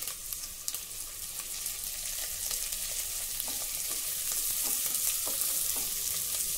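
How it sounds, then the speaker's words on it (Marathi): Rinsed, drained rice fries and is stirred in a pan, a bright, steady sizzle overlaid with repeated scraping strokes of the spoon, loud and close with no talking. "आता अगदी 2 मिनिटांसाठी हे तांदूळ आपण थोडे परतवून घेऊ।"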